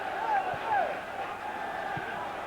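A football crowd at Tannadice stadium during a playoff second leg hums with a steady, distant roar and scattered whistles and shouts, continuous and moderately loud beneath faint talk.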